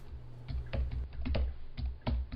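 Rapid keystrokes on a computer keyboard during live coding of a mobile graphics app, an irregular run of close, crisp clicks with short pauses and no talking.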